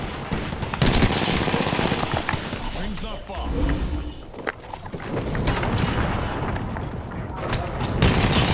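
Bursts of video game gunfire, including sniper rifle shots, crack and boom loudly in uneven volleys over a noisy mix, while players talk excitedly throughout.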